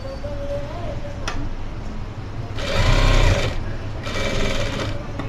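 A sewing machine stitches a dress collar: a quiet background hum gives way to two close, loud bursts of rapid mechanical stitching, each lasting about a second.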